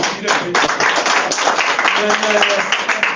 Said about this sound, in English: let's clap hands for you